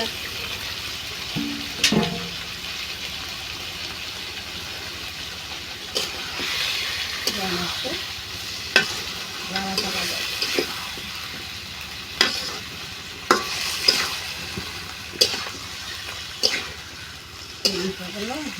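Duck meat is stir-fried in a pan with a steady low sizzle, while a spoon scrapes and clanks against the metal in irregular strokes, and someone talks over the cooking.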